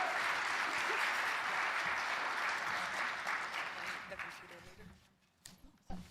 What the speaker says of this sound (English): you can give them a wild round of applause